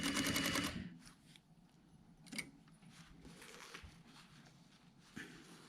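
A sewing machine stitches piping onto a jacket pocket bag in a short loud burst at the start, followed by quieter handling clicks and rustles of fabric.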